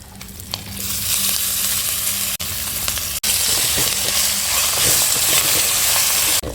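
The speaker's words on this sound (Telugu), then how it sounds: "ఈ పచ్చడి అంతా ఇప్పుడు ఆ పోపులు అయితే వేసేసుకున్నాము." Hot oil tempering with mustard seeds, asafoetida and curry leaves sizzles loudly and steadily into mango-ginger chutney, a close, continuous crackling hiss with a couple of brief breaks.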